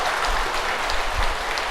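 Applause from members of a Buddhist temple assembly during a Dharma service, a steady, dense clapping wash from a crowd that continues evenly without pause and without voices.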